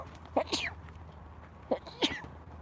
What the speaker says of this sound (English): All I ever do is sneeze.